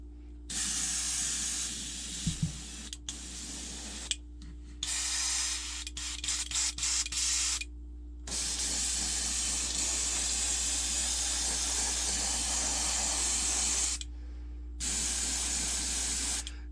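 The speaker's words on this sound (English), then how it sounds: "See if it's spraying, and it is spraying." Airbrush spraying paint onto a jointed swimbait fishing lure in sustained hissing bursts, stopping and starting several times with short gaps, over a steady low hum.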